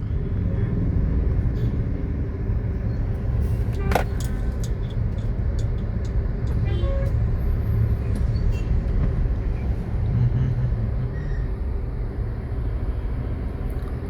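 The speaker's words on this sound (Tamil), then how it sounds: "கணபதி கிட்ட நல்லா டிராஃபிக்கில் வந்து மாட்டியாச்சு" Dense road traffic near Ganapathy in Coimbatore, heard from inside a taxi stuck in a jam: a steady, loud low rumble of engines with a few faint higher tones on top.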